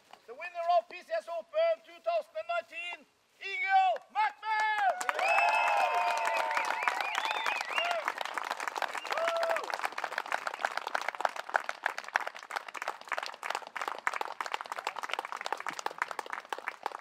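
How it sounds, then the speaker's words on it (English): Spectators at a disc golf tournament final applaud after the winner's tap-in. Voices and tonal sounds open the clip, then a sustained wash of clapping and light cheering builds and continues steadily to the end. "One more applause for Eagle McMahon!"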